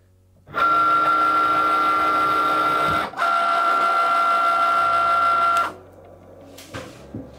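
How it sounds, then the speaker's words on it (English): A Cricut cutting machine scoring paper gives off a steady mechanical whine with a motor hum, briefly interrupted midway, then stops, followed by a few faint clicks. "And now we'll just let it score."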